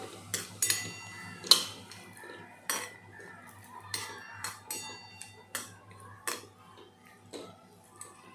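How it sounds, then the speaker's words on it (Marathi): A spoon stirs and scrapes dry fruits roasting in ghee inside a metal pan, making repeated sharp clinks at an uneven, unhurried rhythm over a quiet low hum, with no talking. "मी त्याच भांड्यामध्ये तुपामध्ये हे आता ड्रायफ्रूट भाजून घेत आहे."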